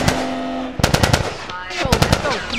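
Bursts of rapid automatic gunfire in The Last of Us combat against Fireflies, a pause then a second volley, loud and close, with faint shouting voices in the background.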